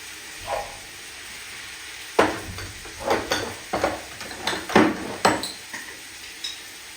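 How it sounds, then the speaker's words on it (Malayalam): Onions frying in a pan as the first step of mandi in a home kitchen, with a steady sizzle under a series of sharp scraping and clinking utensil strokes against the pan, close and moderately loud, no talking. "മന്തിയുടെ പരിപാടി തുടങ്ങാം ആദ്യം സവാള ഇടാം"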